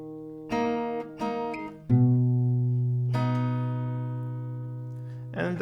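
Acoustic guitar playing the melody part of a song, a few plucked notes followed by a long ringing note, close and clear with no talking.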